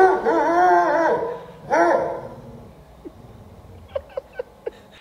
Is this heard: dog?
yes